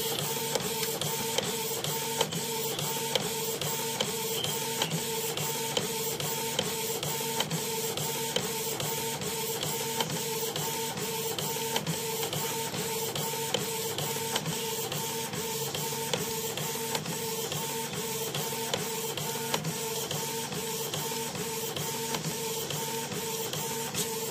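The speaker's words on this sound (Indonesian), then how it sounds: "Oke, ini proses cetak di PET filmnya ya" A Canon iP2770 inkjet printer prints onto PET film, running steadily with a dense mechanical whir and a regular train of soft clicks from the moving carriage, close and continuous throughout, with no voices.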